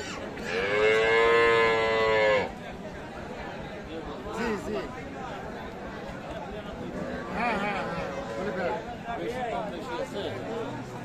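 A Friesian cow moos loudly and close for about two seconds at a busy rural cattle market, followed by a hubbub of people talking and chattering nearby.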